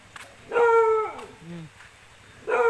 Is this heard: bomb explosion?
no